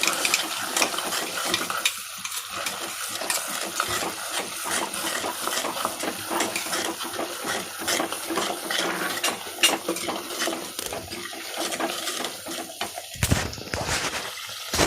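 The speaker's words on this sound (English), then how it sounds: "And keep on stirring." Ground spice paste for a traditional fish curry frying in oil as it is stirred continuously in a pan, a constant near sizzle with scraping spoon strokes and metallic clinks, alone without talk.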